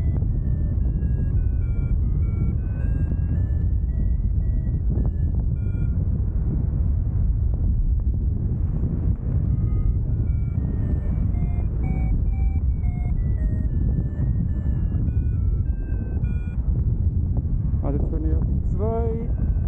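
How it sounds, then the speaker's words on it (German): Paragliding variometers, two units running at once, beep in a steady rising and falling tone series through strong wind noise during a flight over Grindelwald, continuous and fairly loud. "Ich höre vielleicht das Dual-Piepsen, ich habe beide Vario angelaufen"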